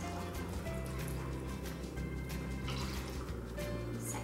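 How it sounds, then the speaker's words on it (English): Milk trickles and drips into a bowl holding yogurt, a soft, close, continuous liquid pour with small splashes, alone without talk. "So we've got our yogurt going in here, and then pop in your milk."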